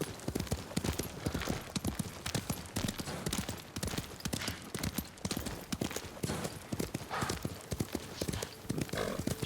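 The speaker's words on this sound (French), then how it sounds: "Le cheval, c'est trop génial." Horse hooves clip-clop in a steady, rapid rhythm in the video game Ghost of Tsushima, loud and continuous, with a faint snort or whinny mixed in and no talking.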